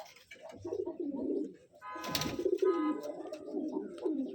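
An old male pigeon of about eight years coos in low, repeated throaty phrases, joined by a brief burst of brighter, noisy wing or cage sound midway, with a steady murmur of background activity throughout.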